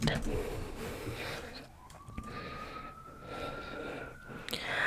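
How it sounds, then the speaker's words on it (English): A siren wails faintly in the distance, holding a steady rising tone as it passes, over a noisy outdoor background. "Let's excuse that siren going by."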